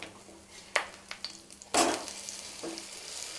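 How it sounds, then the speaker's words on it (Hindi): A no-sugar budha chakuli, an Odia jaggery pancake, fries in ghee on a pan with a soft, steady sizzle, broken by a few light clicks and one louder scrape, with no talking. "इसके ऊपर हम थोड़ा सा और घी को ग्रीस करेंगे और फिर पलट देंगे"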